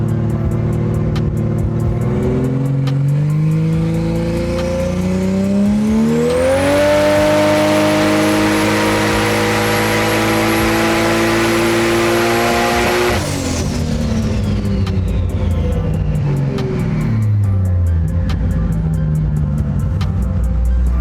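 A Ford Barra engine in a BA car revs on a dyno, loud and close, rising steadily to a sustained high-rpm howl with a whistling whine, holding there, then winding back down.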